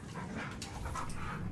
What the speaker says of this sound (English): The dogs are in play mode.